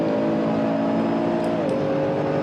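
A Nissan GT-R Nismo GT3 race car accelerating around Laguna Seca in a racing video game, its steady engine drone loud and close, with the pitch of the engine notes shifting briefly near the end.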